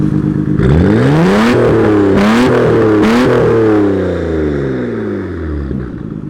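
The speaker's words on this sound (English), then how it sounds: "Give it some revs." A Nissan Skyline R32's engine revs hard several times while puffing smoke, the pitch climbing and dropping with each throttle blip, close and loud, then settling to a lower idle.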